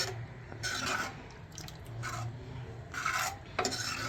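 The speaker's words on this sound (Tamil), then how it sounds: "அதை நல்லா ஒரு பெரிய இந்த கரண்டி வச்சு நல்லா மசிச்சுக்கணும்." Onion and tomato being mashed with a big ladle in a pan for chicken curry, giving repeated soft scraping and squelching strokes in irregular bursts, close and fairly quiet.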